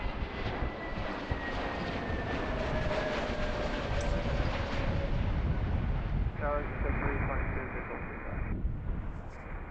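Roar of a Frontier airliner passing near Philadelphia airport, a loud, steady broadband rumble with a falling engine whine that fills the whole stretch, with a brief burst of radio chatter partway through.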